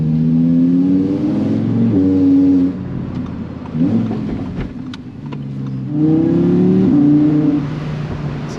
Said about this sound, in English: It's a really loud car. You can hear the V10.